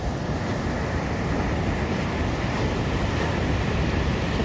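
Sea waves wash steadily at Beemapally beach as rain approaches, a continuous broad roar of surf mixed with wind buffeting, with no distinct breaks.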